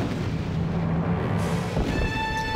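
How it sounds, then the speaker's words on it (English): Fireworks burst in the video game Psychonauts as a dense, continuous rumble of booms. A few bright tonal notes come in toward the end. "Literal fireworks as they smooch."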